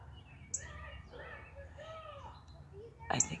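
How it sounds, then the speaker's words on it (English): A cardinal sings in short, faint whistled phrases near a lilac bush outdoors, with a couple of sharper chirps toward the end against quiet background noise. "I think it's a cardinal. Like, that's a cardinal sound."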